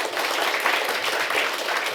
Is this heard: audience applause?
yes